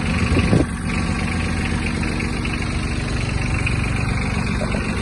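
A Japanese Yanmar F-155 mini tractor engine idles while warming up just after starting, giving a steady, close, mid-pitched diesel drone with a constant rhythmic pulse and one brief knock near the start, with no talking.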